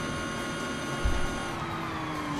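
An Energica EVA electric motorcycle being ridden gives a steady high electric whine whose pitch slowly falls, with a brief low thump partway through; it is heard alone, fairly close and at moderate loudness.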